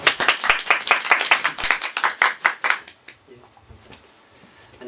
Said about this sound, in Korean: 뜨거운 박수로 함께.